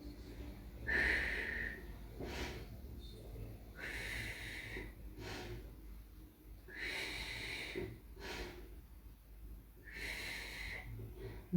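Audible breathing in and out during a Pilates exercise, repeated breaths in a slow rhythm, soft and close, with no speech over them.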